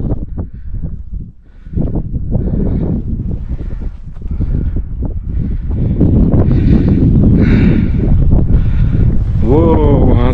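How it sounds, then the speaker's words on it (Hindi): Strong wind buffets the microphone on a countryside hike in England, a steady loud rush that builds over the second half, with people talking throughout. "बहुत तेज हवा चल रही है अब"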